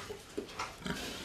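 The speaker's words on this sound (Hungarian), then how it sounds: "17 anyakocát és annak malacait neveli Fekecs József Zenta gunarasi gazdálkodó." Pigs on a small farm with seventeen sows and their piglets, giving a few short, fairly quiet grunts and oinks spaced over a low background murmur.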